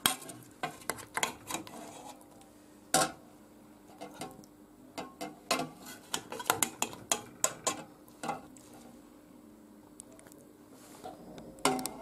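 Potato and meat stew cooked in a pressure cooker being plated, with scattered clinks and knocks of dishes, pots and cutlery coming in irregular bursts, fairly close and fairly quiet, with no talking.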